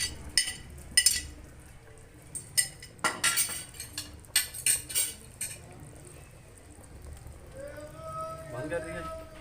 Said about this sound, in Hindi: अब इसमें हम चावल डालेंगे।